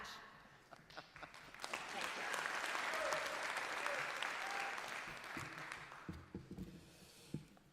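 A political convention crowd claps in sustained, dense applause that swells and holds for several seconds, then thins out near the end.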